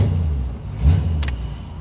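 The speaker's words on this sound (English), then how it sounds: "starts like a Corvette. First shot, great oil pressure, cold as can be at the moment." The 350 V8 of a 1969 Chevrolet Corvette coupe fires on the first try from cold, a loud close low rumble with a quick rev swell and a faint metallic tick.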